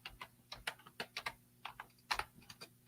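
Computer keyboard being typed on in quiet, irregular bursts of sharp key clicks, some single and some in quick clusters, close and faint with a low hum behind.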